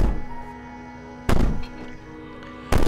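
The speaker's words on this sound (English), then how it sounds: "How is she banging on the door if she was on the chain?" Heavy thuds of a princess banging on a door in the game Slay the Princess: two loud, booming knocks spaced over a second apart against a quiet, humming background.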